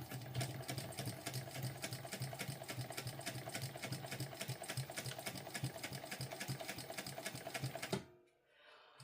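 A sewing machine fitted with a rolling foot stitches a sling bag seam in one steady, rhythmic run of rapid needle strokes, moderately close, stopping abruptly near the end.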